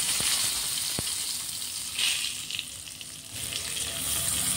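Ingredients such as ginger, green chili and garlic sizzle in hot oil in a pan, a steady crackling fry with a few louder spatters and light stirring, heard close up with no talk.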